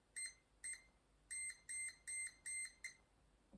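An unboxed electronic gadget beeps repeatedly, seven sharp high-pitched tones in an uneven series, close and clear over a quiet background.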